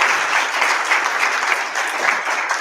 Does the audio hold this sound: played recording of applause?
yes